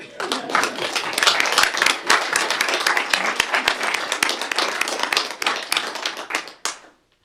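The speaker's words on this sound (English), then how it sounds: "We're going to get a big round of applause." Loud, sustained applause from a crowd at a city council meeting, dense clapping that fills the space for several seconds before tapering off at the end.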